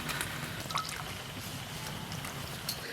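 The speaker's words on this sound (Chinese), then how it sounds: "把苦菜多洗几遍。" Boiled bitter greens being rinsed in cold water, with steady close dripping and trickling of water and small splashes throughout.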